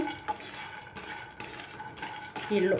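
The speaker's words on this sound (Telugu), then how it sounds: "ముందైతే ఈ పల్లీలను వేయించుకుందాం అండి" Peanuts dry-roasting in a pan, stirred with a metal spoon in repeated scraping, rattling strokes against the pan, close and steady, no voices.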